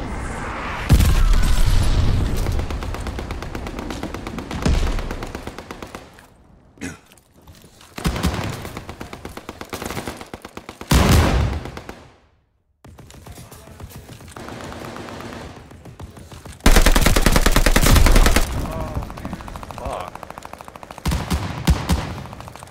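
Gunfire in a Call of Duty Vanguard Search and Destroy match: loud bursts of automatic shots and booming blasts, some close and heavy, others sparser, separated by brief near-silent gaps.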